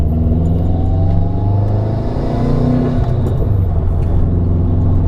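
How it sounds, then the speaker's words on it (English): A Subaru WRX hatchback turbo engine running on E85 drones loudly and steadily at mid pitch, with the revs rising and falling and no voices over it. "There's a flutter when you're getting up in RPM."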